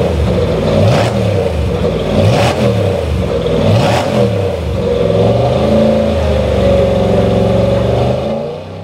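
A hydrogen combustion race car accelerates at Le Mans, its engine revving loud and close through repeated rising gear sweeps, with brief bursts as it shifts.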